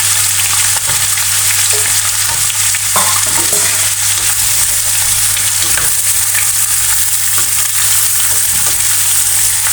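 Cauliflower fries in a pan with chili and spices for a carrot and cauliflower pickle, giving a dense, loud, continuous sizzle with occasional stirring scrapes and a steady low hum beneath, and no voices.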